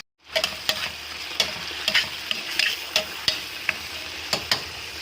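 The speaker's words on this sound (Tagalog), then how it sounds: "Habang inigisa natin yung kamatis, so nandito rin yung piniprito natin yung tilapia." Tomatoes sauté in one pan while tilapia fries in another, giving a close, steady sizzle broken by regular spoon strokes scraping the pan.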